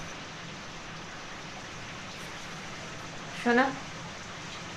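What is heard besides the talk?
rain falling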